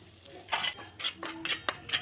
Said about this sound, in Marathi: त्याच्यामध्ये रवा टाकून भाजून घ्यायचं